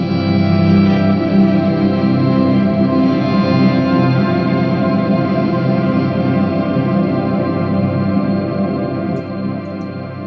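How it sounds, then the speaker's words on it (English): Electric guitar run through a Tender Octaver Mark 1 pedal gives a thick, organ-like sustained tone, a steady swelling wash of held notes that carries for several seconds alone, loud and close. "You get like these organ type of sounds."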